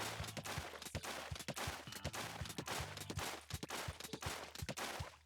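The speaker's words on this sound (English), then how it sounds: "Here's how fast you can shoot the Splat Brella." Rapid Splat Brella fire in a Splatoon-style video game, a fast regular series of punchy shots with splattering bursts, loud and continuous over a few seconds, no voices.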